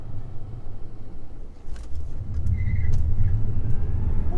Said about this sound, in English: welcome to some tire spin, because when you got cold weather, it's always a good morning